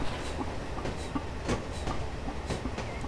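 Steam locomotive in Railworks 3 Train Simulator reversing to couple up to wagons, with a steady rolling rumble and repeated clicking wheel beats over rail joints, moderately loud and without speech.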